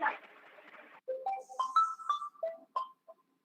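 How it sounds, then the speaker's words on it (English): Mobile phone ringtone going off during an online meeting, a short bright electronic melody of several quick notes following a brief burst of muffled noise, close and clear. "please mute your phone"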